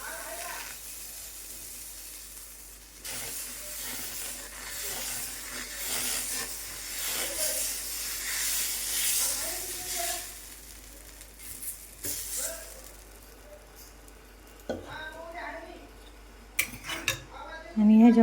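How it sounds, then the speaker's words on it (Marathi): Dosa batter ladled onto a hot tawa, hissing and sizzling in a broad wash that swells and fades, with clinks of utensils and a voice speaking over the later part. "डोशाचं बॅटर घेणार आहे आणि इथं तव्यावर टाकणार आहे."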